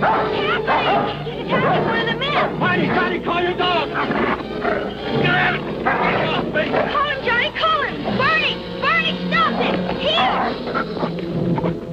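A dog barks repeatedly in a classic western TV show, the loud, steady barking mixed with voices and a busy soundtrack throughout.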